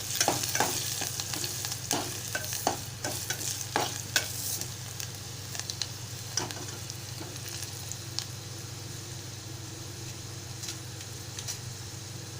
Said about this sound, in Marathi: बारीक चिरलेला कांदा घालत आहे मिश्रण छान एकजीव करून घेत आहे